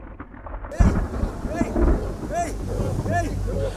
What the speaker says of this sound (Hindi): यहाँ पे तूफान आया हुआ है और हम लोग फिशरमैन को चेज कर रहे हैं